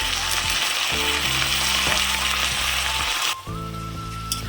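Potato and capsicum curry frying with a strong steady sizzle, then a sudden change in tone as a little water hits the hot pan, with faint stirring afterward.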